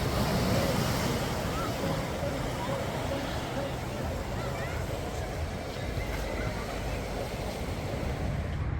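Ocean waves wash onto a beach along the coast in Montevideo, a steady, loud broadband roar of surf mixed with gusting wind buffeting the microphone, continuous throughout.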